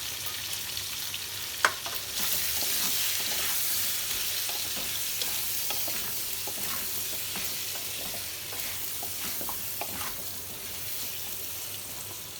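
Pumpkin pieces frying with salt and turmeric in a pan, a steady close sizzle lasting several seconds with scattered clicks and scrapes of a spoon as they are stirred, and no talking.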